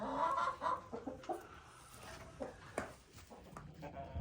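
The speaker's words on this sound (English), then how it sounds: "Look at that hen." A backyard hen clucks repeatedly in short, irregular bursts, fairly close, with other chickens faintly audible around it and no talking over the sounds.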